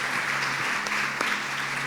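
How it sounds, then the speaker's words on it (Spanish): Continuous congregation applause in a church on Resurrection Sunday, a dense even wash of many hands clapping with a couple of sharper claps poking through. "quiero que le demos un aplauso al Señor por estas vidas transformadas"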